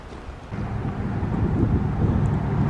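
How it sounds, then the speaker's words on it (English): Wind blows steadily outdoors near a dark forest, a low rumbling buffet against the microphone that swells after the first half second and stays loud and continuous with no talk. "Only silver lining I can see about the wind is you can see that trees aren't flying around"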